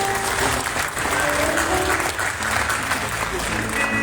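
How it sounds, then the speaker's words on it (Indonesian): Congregation clapping steadily at a church wedding service, a dense, continuous round of applause filling the room, with voices and music faintly mixed underneath. "Kasih yang meriah tepuk tangan Bapak Ibu."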